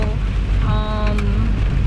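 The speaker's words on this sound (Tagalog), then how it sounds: "ang lakas ng ulan" Heavy rain makes a dense, steady hiss and drumming around the listener, with a voice speaking briefly over the downpour.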